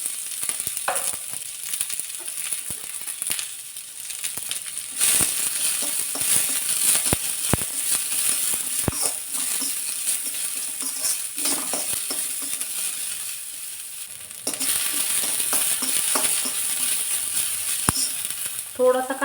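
Chopped onion frying in oil in a wok for a spicy colocasia leaf curry, a continuous close sizzle broken by scraping stirs and metallic clinks of a spoon against the pan.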